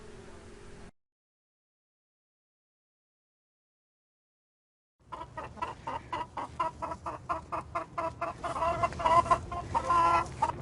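Several chickens cluck in a farmyard scene, a dense run of short, repeated calls that builds after a stretch of silence and grows louder toward the end.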